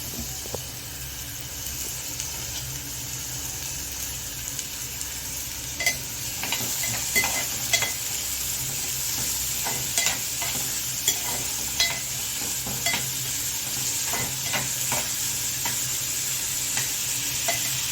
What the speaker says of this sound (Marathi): तेल गरम करायला ठेवलं होतं, त्याच्यामध्ये आपण हा कांदा घालणार आहोत. हा कांदा छान मऊ होईपर्यंत याच्यामध्ये परतून घ्यायचा आहे.